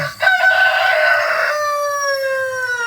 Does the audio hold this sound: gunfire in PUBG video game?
no